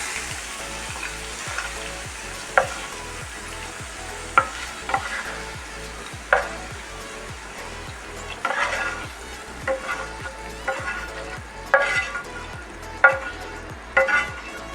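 Okra frying in a pan, with a steady oil sizzle broken by repeated scraping strokes of a spoon or spatula as it is stirred, close and clear, with no talking.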